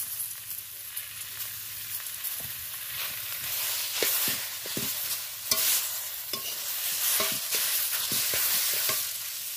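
Taro leaves (kochu shak) being stirred in a frying pan with spices, a soft sizzle under repeated scraping clicks of the spatula against the pan, irregular and close.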